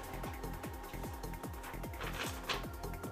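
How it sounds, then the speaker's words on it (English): A small desktop printer runs a print job of a two-colour logo, giving a steady mechanical whir with a rapid, regular ratcheting tick repeating roughly every quarter second throughout, close and fairly quiet. "the client's logo is coming through now on my trusty little printer"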